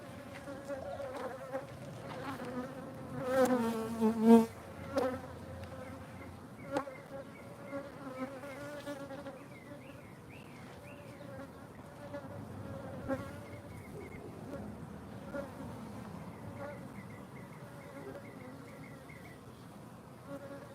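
Bees buzz in a dense, steady hum around horizontal beehives, swelling louder in a few close passes early on before settling into a continuous drone with no talking.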